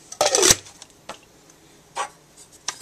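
A metal canteen from a canteen kit is handled close up: a scraping clatter at the start, then scattered knocks and rubbing taps spread over a few seconds, with no talking.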